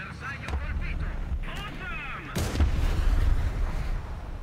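Gunfire in a tank video game aimed at the player's Italian tier 9 tank, a few sharp booming cannon shots over a constant low engine rumble, the biggest blast arriving near the middle.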